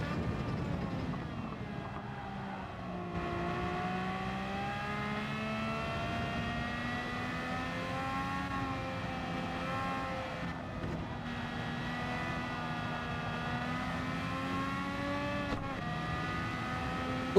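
High-revving engine in a racing video game, a continuous strained whine that rises and falls as the car accelerates and shifts, steady and loud throughout with no talk.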